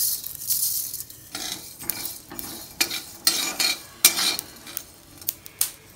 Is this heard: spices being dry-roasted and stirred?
yes